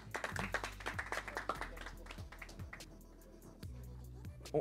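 A small audience claps for a few seconds, the applause thinning out, with a murmur of voices underneath.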